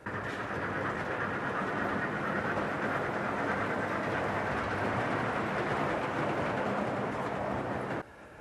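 A model train with scale-length rolling stock runs on a large model railway layout, a steady rumbling, clattering roll that holds close and even before dropping away near the end.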